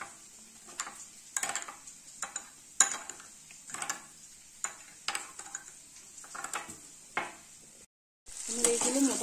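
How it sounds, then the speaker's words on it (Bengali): Crispy fried baby corn being stirred through a sauce of chili sauce, tomato ketchup, vinegar and soy sauce in a pan, with soft sizzling under repeated scraping strokes, then a brief gap and a louder sizzle at the end. "এবারে আমি যে সসটা রেডি করেছিলাম সেই সসটাকে আমি এখানে মিশিয়ে দিচ্ছি"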